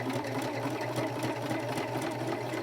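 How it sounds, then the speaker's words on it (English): A sewing machine runs steadily, stitching fabric close to a seam ditch on a quilted mug rug, its rapid even needle chatter continuous and fairly close, with no voices. "I'm sewing down here as close as I can to that ditch"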